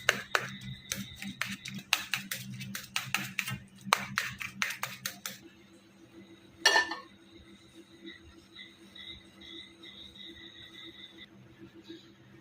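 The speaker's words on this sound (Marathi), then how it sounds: "छान यांना मॅश करायचं त्यांना चांगला मिक्स करून घेतला असं चाकूनच" Roasted eggplant mashed with a knife for Khandeshi bharit: a quick run of sharp knife taps and clacks for about five seconds, then a quieter stretch with one more clack.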